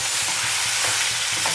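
Chicken frying in a pan with ginger garlic paste, a steady close sizzle with soft stirring scrapes, no voices.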